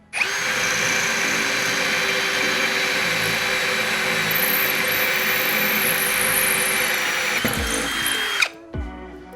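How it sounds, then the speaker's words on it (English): A loud power drill grinds steadily into a hard concrete block for several seconds, boring a hole right through, then cuts off with a clatter near the end. "we're gonna go ahead and drill right into some concrete here"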